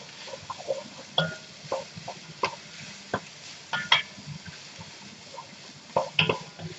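Chopped green peppers cook in a pot for goulash, giving soft sizzling under intermittent scraping and stirring knocks of a utensil against the pot, close and fairly quiet with no talk.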